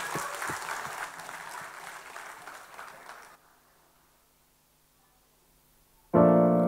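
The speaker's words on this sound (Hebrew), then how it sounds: "קבלו במחיאות כפיים" Audience at a dance school's end-of-year show applauds for about three seconds, then falls nearly silent before music suddenly starts loud.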